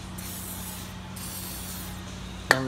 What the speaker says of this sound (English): we're gonna use some WD-40, spray it on the seal and around the seal hole